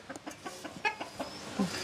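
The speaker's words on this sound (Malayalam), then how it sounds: "നമുക്ക് 30 ഗടാഗടിയന്മാരായ കോഴികളുണ്ട് ഇവിടെ" Several farm chickens cluck in short, irregular bursts, with a louder squawk near the end, moderately close in a quiet outdoor yard.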